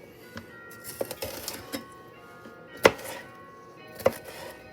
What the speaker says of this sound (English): being careful when you're slicing to remember how to cut and chop properly